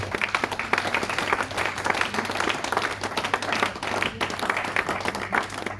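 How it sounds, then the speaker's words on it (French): A church congregation applauding steadily together, a dense, close wash of hand claps that holds at an even level throughout with no voices over it. "Je vois tout le monde en train d'acclamer le Seigneur."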